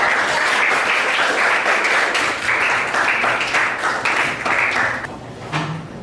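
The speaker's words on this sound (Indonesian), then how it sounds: "Oke, tepuk tangan dulu dong." A classroom of students claps together after a group discussion, brisk and moderately close, fading out near the end as a faint voice and tapping come through.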